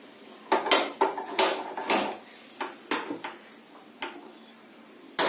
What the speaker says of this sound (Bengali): কড়াই দিলাম